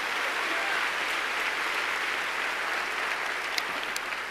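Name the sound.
congregation applause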